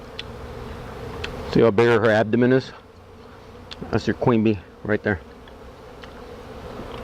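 Honey bees buzz steadily in the background during a hive removal in Weslaco, Texas, a continuous insect drone running under bursts of close male speech.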